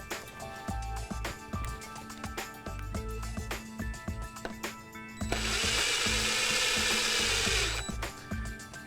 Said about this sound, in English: You slide the barrel in, and then you use the screw provided to tighten the barrel to the sash.